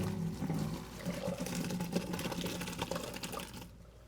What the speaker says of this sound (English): I'm just going to drain the pasta.